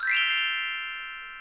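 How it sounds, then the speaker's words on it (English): A single bright chime rings once during a live anniversary stream, sharp at the strike and then a clean tone that fades slowly as it decays, alone with no talking. "So Ryan gets the glockenspiel."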